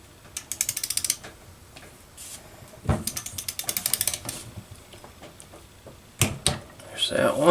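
A torque wrench ratchets as it tightens connecting rod bolts on the crankshaft of a Kohler KT17 engine during a rebuild. It gives three close, sharp bursts of rapid clicking separated by pauses, with a few light clanks near the end.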